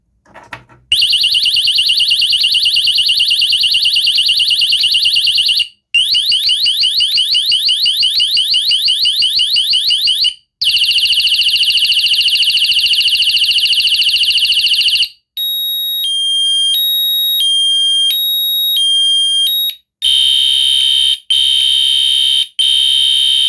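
A new Desi 103 home alarm system siren sounds loud during a test. Long, piercing electronic wailing bursts are split by short gaps, then shift to stepped beeping tones and a harsher pulsing pattern, with no talk.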